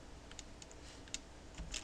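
Light clicking keystrokes on a computer keyboard, quiet and close, a few irregular taps scattered across a low background hum, with no talk.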